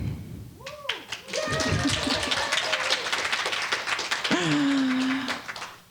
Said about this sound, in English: you're even applauding me